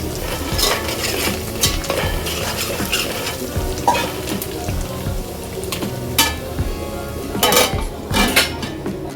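Curry leaves tempering in hot oil in a pan, with a continuous crackling sizzle and sharp bursts of spatter, along with stirring scrapes and clinks of utensils against the cookware.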